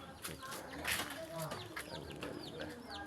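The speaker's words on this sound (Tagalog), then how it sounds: "Yan, bantam ko yan." Bantam chicken clucking in a backyard farm, short repeated clucks mixed with other fowl calls at moderate distance, with faint voices and background farm noise throughout.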